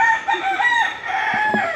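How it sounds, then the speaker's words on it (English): A rooster crows loudly and close by while chickens cluck briefly underneath, all in under two seconds. "That's my chickens."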